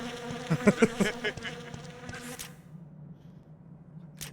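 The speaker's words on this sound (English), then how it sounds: "Bees!" Bees buzz in the zombie shooter game Resident Evil: Dead Aim, a brief loud swarm of buzzing pulses that cuts off after about two seconds, leaving near silence and a short click at the end.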